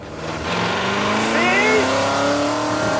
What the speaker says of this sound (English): the straight pipe exhaust is loud, especially when you press the throttle.